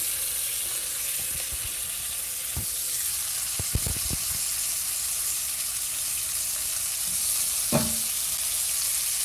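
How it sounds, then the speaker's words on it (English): Morel mushrooms fry in browning butter, giving a continuous close sizzle with a cluster of light utensil taps and clicks partway through and another knock near the end. "So I'm just adding this butter here to start browning."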